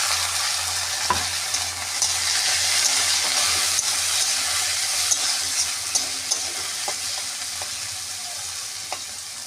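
Potatoes and jackfruit seeds fry in a pan for a Bengali kalmi shak chachchari, giving a steady close sizzle with occasional stirring scrapes and light clicks throughout, no talk.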